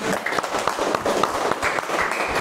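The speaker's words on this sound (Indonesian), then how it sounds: "Oke, tepuk tangan." Brief burst of scattered hand clapping from a fourth-grade class, moderately loud and dense, lasting a couple of seconds.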